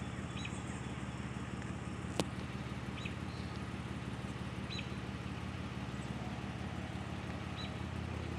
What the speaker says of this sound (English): Sorry for the noise of the car.